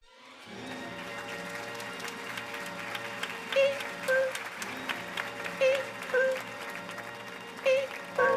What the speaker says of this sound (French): un tonnerre d'applaudissements pour Florian Guichon